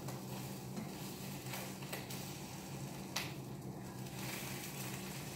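Eggs frying in a pan make a soft, steady sizzle with faint clicks and scrapes, low and continuous at a distance, with no voices.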